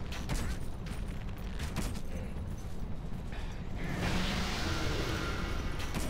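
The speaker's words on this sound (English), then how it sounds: "we have one of those desert sorceresses shooting fire at us" A desert sorceress in Dark Souls II: Scholar of the First Sin hurls fire in a dense, crackling rush of noise, with a brighter hissing burst swelling toward the end.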